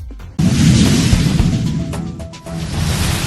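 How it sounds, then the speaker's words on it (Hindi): A loud blast at night in the Kapasan RIICO industrial area of Chittorgarh starts with a sudden broadband boom. A dense roaring rumble follows and holds steady for the rest of the clip, with no speech. "रात की खामोशी को चीरता एक तेज धमाका और कुछ ही पलों में आग का भयानक मंजर"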